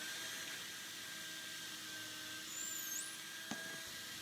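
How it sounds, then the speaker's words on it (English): A power drill pre-drills holes every six inches into the wooden side boards of a concrete countertop form, a steady whirring motor hum held under a constant tone, with a short sharp catch near the end. "I'm going to pre-drill out my sides just so that it doesn't split my form"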